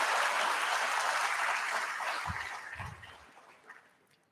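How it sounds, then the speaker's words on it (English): A room of guests at Group Landmark's IPO bell-ringing ceremony gives a steady round of applause, a soft diffuse wash of clapping that gradually fades away over about four seconds, with no talking. "a big round of applause for all the people who work"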